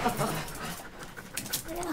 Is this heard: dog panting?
yes